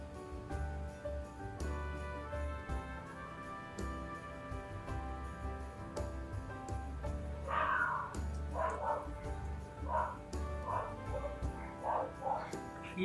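Several short dog barks and yips sound from a moderate distance over a steady background hum, in uneven bursts toward the end.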